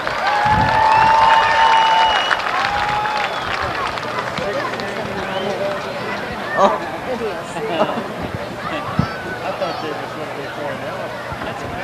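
A speedway crowd at a midget car race claps and cheers for a veteran driver, a broad wash of applause that swells early and then thins into scattered clapping and crowd chatter, with an announcer's voice over it.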